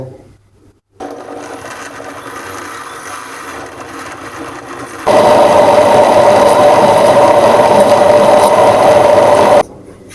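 A blender runs on thick milk and mango for a milkshake, first at a steadier lower speed, then switching to a louder, harsher high-speed whir for several seconds before it cuts off.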